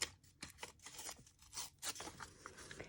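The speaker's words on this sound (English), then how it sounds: "I'm going to rip there." A piece of linen paper is torn by hand for a collage, giving close, quiet bursts of ripping and rasping that come in uneven pulses over a few seconds.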